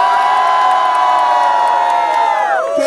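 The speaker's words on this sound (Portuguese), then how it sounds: "Quem acha que foi Glimo faz barulho" A crowd at a rap battle final roars, cheers and shouts in one loud, continuous burst, with whoops rising above the dense wall of voices.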